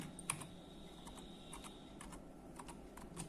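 Keyboard typing as a line of text is entered into a PowerPoint 2010 slide placeholder, a quiet run of separate close key clicks in small bursts with brief gaps, no voice.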